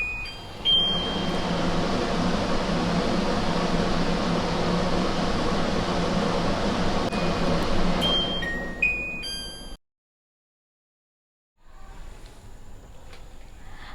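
A Fly Mount kitchen chimney hood runs with a steady close blowing fan roar and a few short electronic beeps, then cuts off abruptly into near silence before faint room noise returns.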